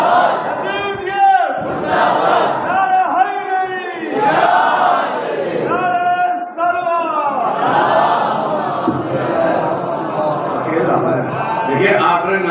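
A crowd at a religious majlis chanting the Naara-e-Haidari in loud, repeated collective shouts, with call-and-response bursts of many voices close at hand.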